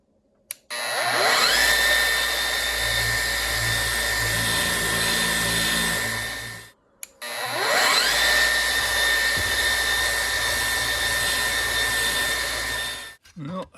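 An orbital sander with dust extraction through a vacuum whirs at a steady high pitch in two long runs, with a vacuum-like hum underneath, stopping briefly between them.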